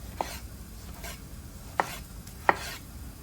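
A knife chops a bell pepper on a cutting board in a home kitchen, three sharp, separate chops at an uneven pace over a quiet background, with no talking.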